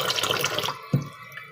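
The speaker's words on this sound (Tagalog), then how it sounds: "Hugasan natin ang mabuti yung bigas." Rice being washed with deep-well water, a brief rush of pouring and sloshing that stops abruptly, followed by one soft knock and quiet.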